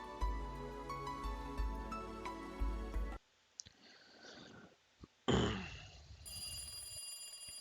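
A telephone ringing in the Higurashi visual novel game, a quick repeating electronic bell trill that cuts off abruptly, followed by sparse clicks and short sound effects.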